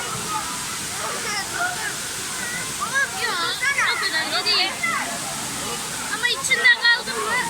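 Sabun Çayı waterfall in Düziçi, Osmaniye, pours in a steady broadband rush with sloshing and splashing close by, while voices talk intermittently over the water.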